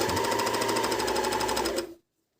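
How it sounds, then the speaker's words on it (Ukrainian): A Medion MD10685 overlock serger stitching folded knit jersey fabric: a fast, steady, loud mechanical chatter running for about two seconds close by, then stopping abruptly into silence. "Включаємо верлок. І поїхали."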